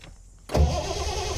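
A 1974 Triumph TR6 that has sat unused for years, running with choke, cranks briefly and then catches, its engine bursting into a steady, close, loud running roar.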